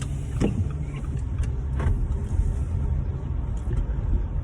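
A BMW car engine runs close by with a steady low rumble, broken by a few brief clicks and knocks.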